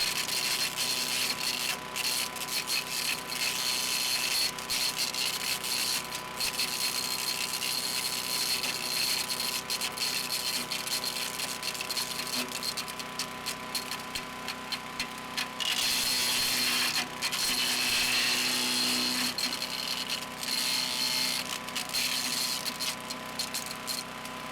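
An Earthquake K32 chipper shredder, model 33968, runs loud and steady while chipping small branches, its engine roar broken by repeated crackling, rattling bursts as wood feeds through.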